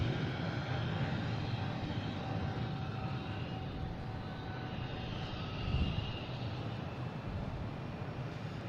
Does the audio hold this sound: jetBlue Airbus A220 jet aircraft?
yes